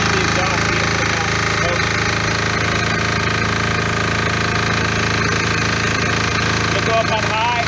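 MEP-831A military generator engine running under load after repairs, a loud steady mechanical drone with rattling, knocking texture that persists unbroken, close to the machine.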